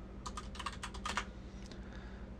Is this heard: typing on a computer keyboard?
yes